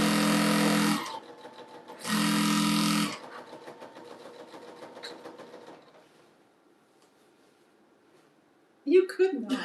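A sewing machine stitches a jelly roll rug in two loud, even bursts of about a second each, with quieter mechanical whirring and clicking between them and a voice speaking briefly near the end.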